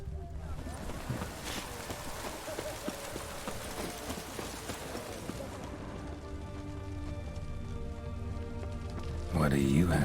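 Rain in The Witcher 3: Wild Hunt patters steadily as a dense, hissing wash with scattered droplet ticks, continuous and moderately loud, with a brief louder sound near the end.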